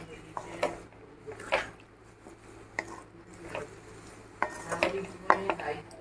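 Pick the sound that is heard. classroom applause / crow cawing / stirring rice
stirring rice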